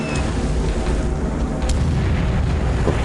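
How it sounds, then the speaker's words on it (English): Torpedo hits on a ship in a Pacific naval war game, a sustained loud rumbling boom of explosions with heavy low-end roar filling the whole stretch. "Torpedo hits."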